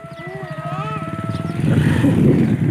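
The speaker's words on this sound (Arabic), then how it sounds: "تعالي يا كارما على جنب عشان موتوسيكل" A motorcycle on a rural Egyptian village road during Eid al-Adha approaches, its engine rumble growing louder and closer through the second half, with a brief tonal whine and faint background sounds before it.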